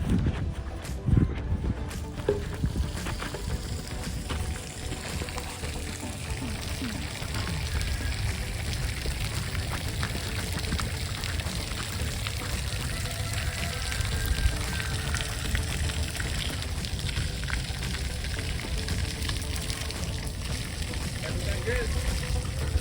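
Water rushing steadily through irrigation zone lines being flushed during a sod install, a continuous broad hiss and gush with low rumble that persists at even loudness from start to finish.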